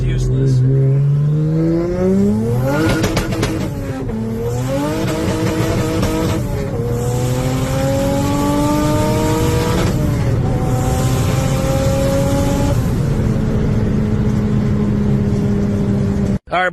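A Honda Del Sol accelerates hard from a pull in second gear, its engine revving loudly and climbing through repeated gear changes, with tire squeal mixed in, close and continuous throughout.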